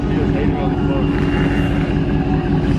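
A Ford Mustang's engine rumbles loud and close with a deep, throbbing idle after a newly installed aftermarket mod, steady and unbroken for a few seconds.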